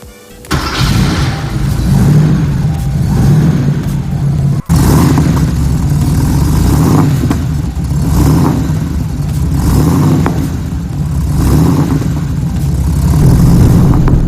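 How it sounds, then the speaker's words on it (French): A 1988 Porsche 930 Turbo fires up and drives off, its loud close flat-six drone rising and falling through steady acceleration over a constant cabin rumble, without voices. "c'est parti pour ce petit essai de la superbe 930 turbo"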